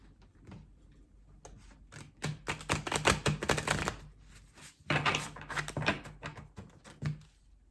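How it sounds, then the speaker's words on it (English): A large tarot card deck being shuffled, giving bursts of dense riffling card clicks and rustles in two main waves, close and moderately loud, with no talking. "Quite a large deck to shuffle this one."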